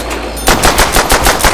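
Rapid machine gun fire from Call of Duty: World at War's Der Riese zombies mode bursts in loud and close after a short quiet lead-in, a fast, even rattle of shots continuing to the end.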